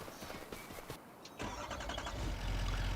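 A truck engine cranks and catches in Farming Simulator 25, a brief starter whir followed by a steady mid-pitched idle that grows fuller and holds, with no one talking.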